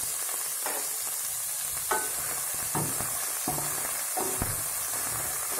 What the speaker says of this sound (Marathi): आता हा कांदा छान आपल्याला गुलाबी होईपर्यंत परतायचा आहे